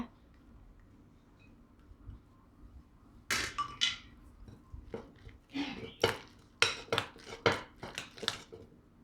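Young-coconut batter of flour and coconut water being stirred in a bowl, heard as a quiet start followed by a run of sharp, close clacks and taps of the utensil against the bowl in an uneven rhythm.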